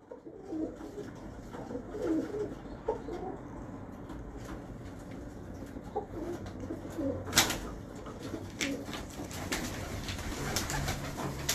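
A cross-bred pigeon that looks like a dub-type bird coos repeatedly at close range, soft rolling calls continuing through the whole stretch over a steady background hum, with no talk.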